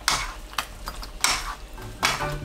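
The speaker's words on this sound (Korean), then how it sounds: "물기가 모두 사라지면 불 끄고 깨 1큰술 넣어 섞어주세요." Spoon scraping and stirring braised Korean fish cakes with potato and sesame seeds in a pan, in three distinct bursts of close, clattering scrapes against the pan, with no talking.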